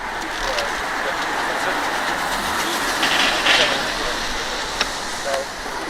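A train rolls through a station with a continuous rumbling hiss and a few sharp clanks and squeals, steady and fairly loud, while a voice speaks briefly in the background.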